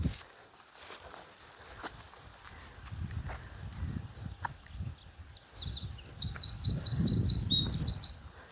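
Small birds sing outdoors along a pathway beside a church, a run of repeated chirping phrases rising clearly toward the end over low rustling and soft footsteps.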